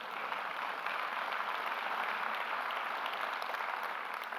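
An audience clapping at a tech keynote, a soft, distant, even patter of many hands that carries on steadily without breaks and with no voices over it.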